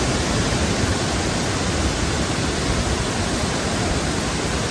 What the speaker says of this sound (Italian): Guardate, qua scende tutta l'acqua, ma la cascata principale è questa.